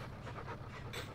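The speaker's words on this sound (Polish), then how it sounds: "dyszy pies mój nawet" Rapid, steady panting from a dog on a farm, close by and fairly quiet, with continuous rhythmic breaths and no talking.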